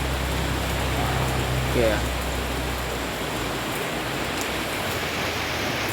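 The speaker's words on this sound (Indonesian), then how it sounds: "hujannya semakin deras ya" Heavy rain falls steadily on a garden as a broad, even hiss, loud and continuous throughout, while a voice speaks briefly under it.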